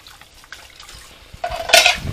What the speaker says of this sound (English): We've got to recycle all of these tins, so we've got to wash them too.